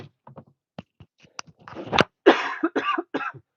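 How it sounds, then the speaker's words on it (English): A man coughs several times up close, a short cluster of harsh, hacking bursts following some quiet clicks. "Man, I cannot get rid of this cough."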